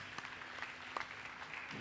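Crowd applause for glass artist Deborah Czeresko at a live glassblowing demonstration: steady, moderately faint clapping that keeps on without a break for a couple of seconds.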